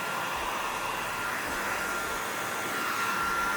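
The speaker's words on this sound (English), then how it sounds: "use our trusty drying method, the hair dryer" A hair dryer blows steadily on vintage Dugena 986 watch parts, a continuous close airy roar with no talk over it.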